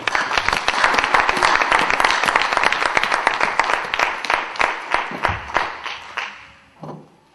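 Church congregation applauding the Lord during a worship service, a dense roomful of clapping that holds steady before thinning into scattered, fading claps near the end.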